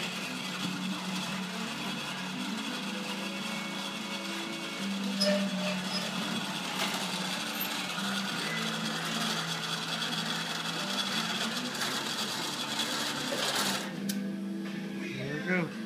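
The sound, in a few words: lawn mower lift lowering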